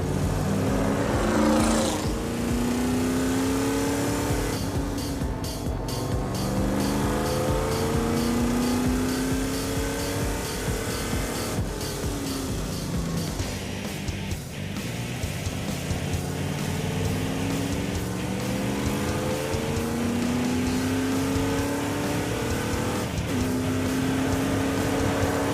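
A race car at a track-day event roars loud and close for the whole stretch, engine revving through repeated rising and falling gear sweeps without a break.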